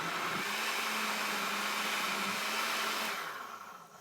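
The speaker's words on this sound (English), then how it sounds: "Then we mix it up." A blender whirs steadily through a batch of avocado soup ingredients, a loud continuous motor drone with a faint hum that runs alone for about three seconds before winding down.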